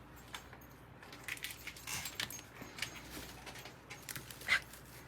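A dog pants softly in quick breathy bursts with faint whimpers close by indoors, plus a brief jingle near the end, all fairly quiet and with no talk.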